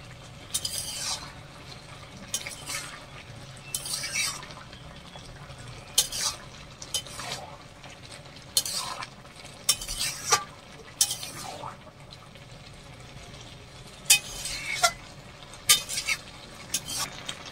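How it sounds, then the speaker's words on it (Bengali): Papaya chutney syrup boils in a pan while a spoon stirs it, giving intermittent scraping strokes and clinks over a soft bubbling simmer, close and fairly quiet. "তারপরে রসটা ফোটা।"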